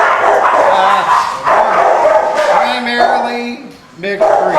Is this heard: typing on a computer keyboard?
no